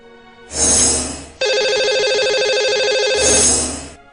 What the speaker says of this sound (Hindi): तो लगाते हैं इन्हें कॉल।